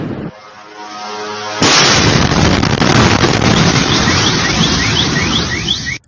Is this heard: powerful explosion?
yes